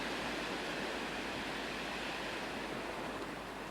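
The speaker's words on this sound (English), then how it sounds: "It was the sounds of waves crashing against the sand." A steady rushing wash of surf on a sandy beach, broad and hissing, with no clear individual wave breaks, like water surging continuously against a shore.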